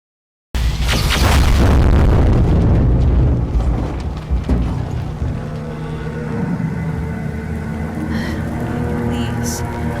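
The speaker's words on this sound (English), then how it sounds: "Insane how this Astro troop obliterated the building, like everything got destroyed." A building blown apart by an explosion in a Skibidi Toilet animation, a loud booming blast with heavy rumbling debris that fades into a long, crackling, rain-like settling of rubble.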